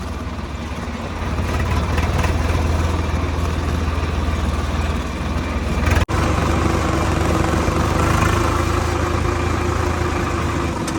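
A motorcycle engine chugs steadily and loudly nearby, running without pause from start to finish.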